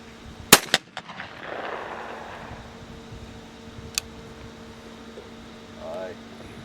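A shotgun fires at a low clay target: one sharp, loud report near the start with a quick second crack right after, then a fainter crack later over a quiet outdoor background.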